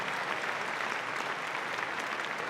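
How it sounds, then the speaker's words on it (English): An audience applauds at a university event, a dense, steady wash of clapping that fills the room throughout with no pause. "let's give a round of applause for all of our distinguished speakers"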